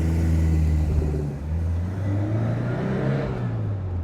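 Engine of a 1985 Alfa Romeo car while driving, a continuous low hum with shifting pitch as it speeds and eases off, steady and fairly close, with road noise and no talk.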